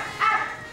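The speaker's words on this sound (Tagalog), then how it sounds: "Ay, aso lang pala eh." A dog gives a single short, bright bark, moderately close and heard alone against a quiet background.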